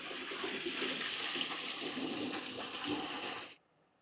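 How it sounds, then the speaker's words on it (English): Water from a mine gushing and pouring steadily at a wild camp site, a loud, broad rushing flow that continues evenly for about three and a half seconds, then cuts off abruptly into near silence. "This is where the water from the mine comes in."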